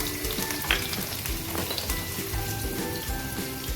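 Chopped red shallots fry in hot oil for a yam stir-fry, a continuous dense crackle and sizzle like rain, steady and fairly close throughout.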